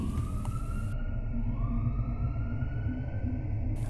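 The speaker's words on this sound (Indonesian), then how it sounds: "Suara sirine terus memekak telinga, mengiringi ambulans yang sedang aku kemudikan melaju dengan kecepatan" An ambulance siren wails continuously as the vehicle speeds along, a loud rising-and-falling tone over a constant engine and road rumble.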